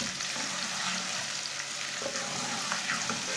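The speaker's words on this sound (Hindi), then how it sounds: "एक मिनट तक मैंने लहसुन को भी पका लिया है।" Onion and garlic fry in a pan for a potato and pea curry, a steady close sizzle with soft crackle and occasional stirring scrapes throughout, no talking.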